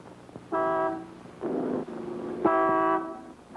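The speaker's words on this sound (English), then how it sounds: "That's Joe honking" A car horn honks twice, each a short steady blast about half a second long, with a brief engine-like rumble between them.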